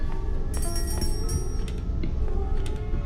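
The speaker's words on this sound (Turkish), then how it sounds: "Çocuğu zilini çalıp yemek istiyor." Bright ringing tones of a bell in the video game Granny: Chapter Two chime repeatedly over a steady background noise, several short bell-like hits spaced irregularly.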